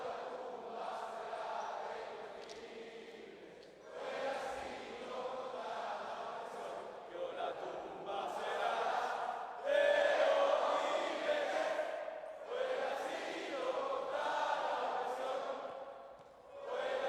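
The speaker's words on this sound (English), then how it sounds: "Continuing to sing here along with the crowd." Crowd singing the national anthem together in an arena at a FIBA Basketball World Cup 2019 game between Chile and the Dominican Republic, a broad echoing chorus swelling and fading in phrases, with a commentator talking over it.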